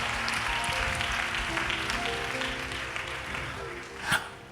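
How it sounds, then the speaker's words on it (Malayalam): Audience applause at a Malayalam-English religious message, a steady dense wash of clapping lasting several seconds with a brief louder burst near the end. "നിങ്ങളുടെ കയ്യടി കൊള്ളാം."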